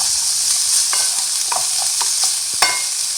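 Minced meat with spices browns in a hot pan, a steady bright sizzle broken by a few sharp scraping stirs, close and loud with no voices.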